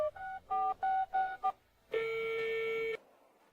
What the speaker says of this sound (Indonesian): Saya akan telepon Kong Hong Yu.